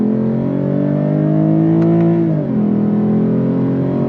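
A 2026 Lexus IS 350 F Sport with an 8-speed automatic pulling hard on throttle, its loud engine drone climbing steadily in pitch before a brief dip at an upshift, then pulling on.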